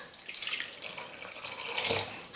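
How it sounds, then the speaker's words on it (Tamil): Water pours into a pot of drumstick sambar, a soft splashing trickle lasting a couple of seconds, quiet and close. "காய் வேகிறதுக்காக தண்ணி சேர்த்துக்கலாம்"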